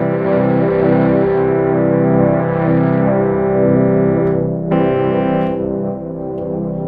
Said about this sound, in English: now I'm gonna introduce the tone knob, which is really cool. It's a filter, a low pass